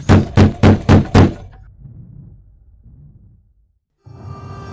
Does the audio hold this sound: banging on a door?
yes